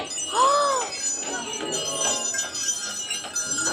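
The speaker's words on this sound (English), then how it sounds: "They have the jingle bells on." Jingle bells ring in bright, shimmering clusters over background chatter and a faint tinkling at Disneyland during the holiday season, with a clear bell tone near the start.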